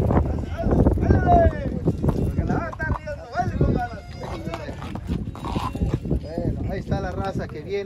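At a patron saint festival procession in Alaquines, San Luis Potosí, horses clip-clop along the street, their hoof beats mixed under an announcer's steady talk and crowd noise.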